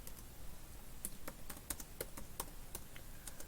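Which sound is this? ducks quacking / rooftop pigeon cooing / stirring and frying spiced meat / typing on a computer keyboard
typing on a computer keyboard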